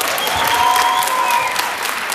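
A crowd applauds the girls at an indoor group program, a dense, steady wash of clapping that holds evenly near and loud throughout, with faint whistle-like tones drifting above it.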